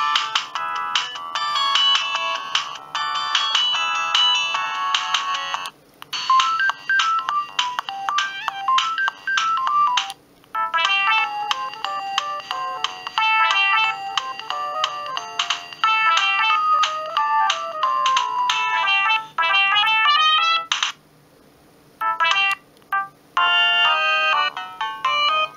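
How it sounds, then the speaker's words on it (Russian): A Siemens A52 mobile phone plays a series of its polyphonic ringtones, bright, beepy electronic melodies played one after another with short pauses between them. "Такой вот набор рингтонов у меня на звонке это стоит."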